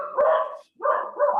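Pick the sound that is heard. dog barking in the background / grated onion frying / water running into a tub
dog barking in the background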